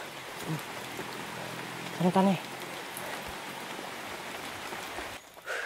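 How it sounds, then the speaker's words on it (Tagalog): A constant hiss of heavy rain pours down, and a voice briefly speaks over the downpour. "Grabe ang lakas ng ulan dito"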